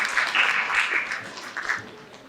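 Audience applause after a dinner at an evening event for an oratorical contest and art competition, a steady patter of many hands clapping at moderate volume that thins out toward the end.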